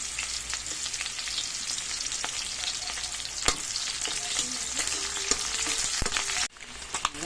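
Onions frying in spattering pork fat for pork adobo, a loud continuous sizzle with stirring and sharp pops, briefly cut near the end before the crackle resumes.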